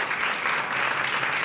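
Steady applause from an audience at an astrology talk, a dense continuous wash of clapping holding at a constant level throughout without voices.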